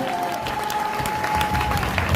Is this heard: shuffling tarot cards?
no